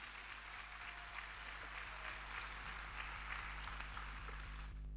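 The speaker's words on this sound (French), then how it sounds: "On applaudit les natifs du mois d'août." A church congregation claps together during Sunday Mass, a soft, even patter heard from a distance and held steady throughout, over a low electrical hum.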